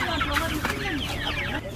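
A flock of young chickens with a rooster clucks and chatters close by, with dense overlapping calls that continue steadily throughout.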